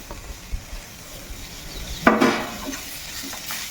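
Grated papaya tipped into a pan and stirred for papaya paratha filling, a brief scraping, sizzling burst in the middle over a quiet kitchen background.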